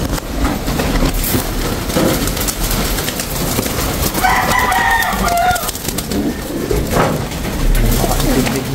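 Tiger grizzle yellow pigeons cooing close by in a loft, several soft throaty coos with a faint rustle of movement under steady background noise.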